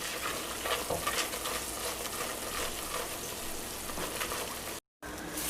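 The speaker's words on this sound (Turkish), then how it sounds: "Şimdi yarım yemek kaşığı sıvı yağım ve tereyağım ile unumu kokusu çıkana kadar şöyle hafif bir kavuruyorum." Flour toasting in melted butter and a little oil in a pan gives a steady, close sizzle with faint stirring scrapes throughout, broken by a brief dropout near the end.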